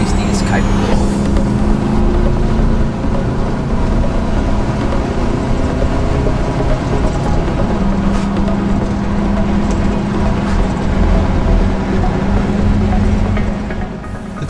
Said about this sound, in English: The twin exhaust system has a sweet note that plays a great tune